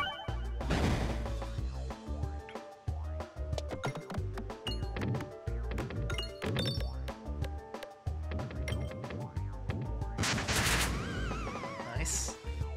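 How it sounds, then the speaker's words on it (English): Bombs go off several times in the video game Peglin, sharp crashing bursts layered over busy game music and chiming clinks, with a dense flurry of impacts near the end. "Bombs. Go off."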